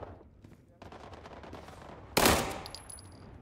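Rapid bursts of automatic gunfire rattle through a World War 3 video game firefight, opening with scattered shots before a sharp, loud volley erupts near the end and trails off.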